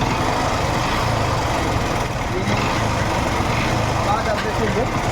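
A Yamaha FZS motorcycle engine idles steadily, its faulty crank adding a ticking to the even, close mechanical drone that runs throughout.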